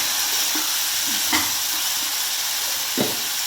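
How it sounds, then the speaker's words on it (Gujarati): Green beans, carrots and a green chili frying in a pan, giving a steady background sizzle with a few soft scrapes of stirring, close and moderately loud, with no talking. "હવે એમાં 1 લીલું મરચું નાખશું અને સારી રીતના હલાવી લઈશું."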